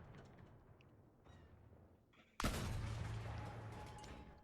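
A tank cannon in Battlefield 1 fires once, a sudden loud blast with a long rumbling decay after a quieter stretch of low battle noise.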